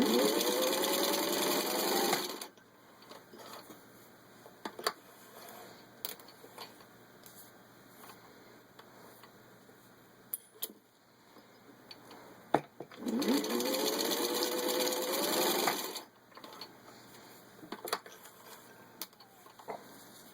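A vintage 1952 Singer 15-91 sewing machine stitches through four layers of vinyl upholstery, a steady mechanical whir in two loud bursts separated by quieter ticks and handling clatter.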